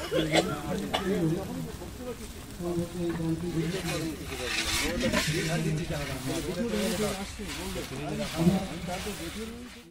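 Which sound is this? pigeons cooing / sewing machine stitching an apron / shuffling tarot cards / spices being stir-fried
spices being stir-fried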